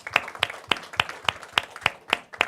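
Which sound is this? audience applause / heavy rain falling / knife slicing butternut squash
audience applause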